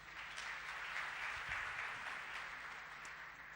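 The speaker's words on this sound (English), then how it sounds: "So let's give her a round of applause" Audience applause at a presentation on a corporate social responsibility happiness workshop in Egypt, a steady, fairly faint wash of clapping from a crowd lasting a few seconds with no talk over it.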